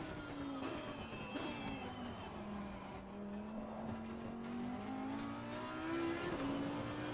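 An Audi race car in the Assetto Corsa Competizione racing game runs with a continuous engine drone whose pitch dips and climbs as it accelerates, joined by faint tire noise, all fairly quiet and steady.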